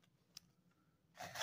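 Metal scissors shift and clack while pushing folded paper notes into a small container for a forensic science activity: one sharp click, then rustling and scraping that grows louder near the end.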